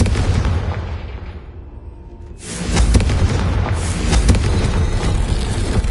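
The Confringo blasting spell explodes in the Hogwarts Legacy video game with a loud, deep booming blast that rolls on with rumbling debris and a second swell of noise, after a quieter stretch of ambience.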